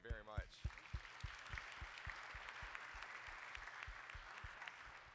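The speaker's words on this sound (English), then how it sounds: "Big round of applause to the panel." Audience applause for a conference panel at the end of a session, starting right after a short spoken phrase and settling into dense, continuous clapping with a faint repeated thumping underneath.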